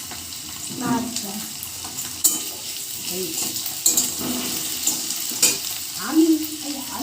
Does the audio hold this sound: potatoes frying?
yes